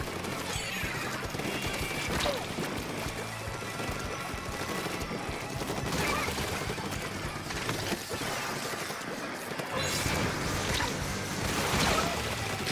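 Splat bombs burst and ink shots spatter during a Splatoon match, a busy mix of splashy pops, crashes and rapid firing at moderate loudness with several sharper bursts throughout.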